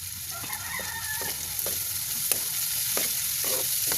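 Garlic and lunch ingredients fry in a pan, a close, continuous crackling sizzle with occasional stirring clicks and a faint rooster crowing somewhere in the background.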